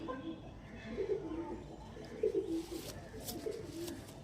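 Soft coos from Star Kalanka pigeons repeat a few times at a low pitch, fairly close, over a steady background hum.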